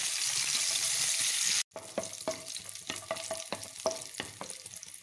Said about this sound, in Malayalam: ചൂടാക്കി വെച്ച് വറുത്തെടുക്കുന്നു.